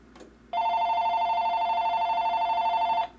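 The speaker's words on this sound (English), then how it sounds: "push the high ring button, which is this one right here, and the phone should ring" An old landline telephone rings when a Radio Shack telephone tester's high ring button is pressed, one long continuous electronic warble lasting over two seconds, loud and close, with no talking.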